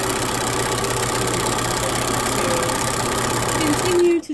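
Sewing machine zigzag stitching a drawstring bag seam finish, a loud steady close mechanical whir running continuously before stopping abruptly at the end.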